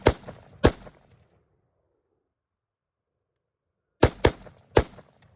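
Rifle with an LPVO scope firing outdoors, five sharp loud shots: two close together at the start, then after a long silence three more in quick succession.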